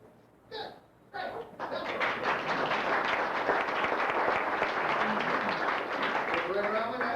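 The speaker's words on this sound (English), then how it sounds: "you'll get a tremendous round of applause" A sustained burst of audience applause mixed with crowd noise at a class reunion event, following a magic trick with rings being pulled apart, preceded by a couple of brief isolated claps before the full ovation.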